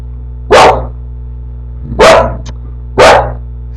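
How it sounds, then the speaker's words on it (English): A dog barks three times, close and loud, with pauses between barks over a low steady hum. "And my dog starts barking."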